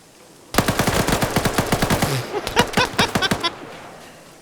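Rapid automatic gunfire in a PvP shooter match, a loud burst of evenly spaced shots followed by a second, more ragged volley, then fading quiet.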